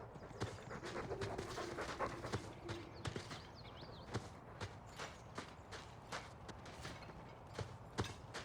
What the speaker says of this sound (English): Foolish hound. Get back here.